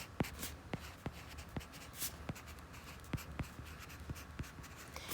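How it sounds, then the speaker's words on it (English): Close, quiet scratching of a pen or pencil writing notes, with irregular short strokes and taps over a faint background hum. "Okay, so we're going to write that down."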